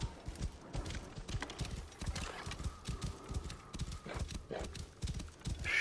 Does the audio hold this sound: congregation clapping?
no